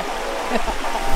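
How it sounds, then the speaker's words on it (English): A flowing creek rushing steadily close by, a continuous burbling wash with small splashes and a hint of a voice. "this killer creek right here."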